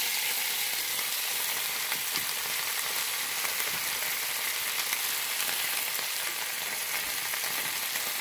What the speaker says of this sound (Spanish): a que se fría el jitomate ahí con la carne